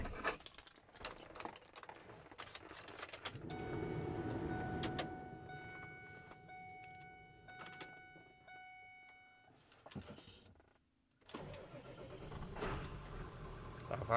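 A 2000 Ford Excursion with a 7.3L Powerstroke diesel and about 148,000 original miles cranks and starts, a faint burst of engine noise rising and then settling to a quieter idle, with clicks and rattles around it.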